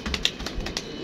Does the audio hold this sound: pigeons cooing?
yes